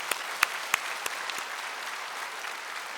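Church congregation applauding during a worship anniversary service, a steady dense wash of clapping with a few sharper claps standing out early, moderately quiet and without talk.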